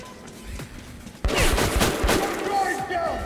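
Gunfire in the video game Metro: Last Light Redux: a burst of rapid, close shots cracks out in a dense, loud volley after a quieter start, with a voice talking over part of it.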